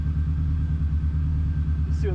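A modified carbon fiber Subaru WRX with a Haltech engine management system and flex fuel setup idles, giving a loud, steady low rumble with an even pulsing beat. Near the end there is a brief higher-pitched sound.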